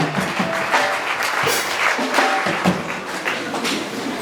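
Congregation clapping at a church choir's 25th jubilee celebration, a dense, steady burst of applause filling the room for several seconds with scattered cheers.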